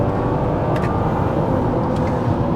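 A twin-turbo BMW N54-engined car accelerates hard and short-shifts, giving a loud, continuous, roaring engine and road noise with brief rises in pitch, no talking.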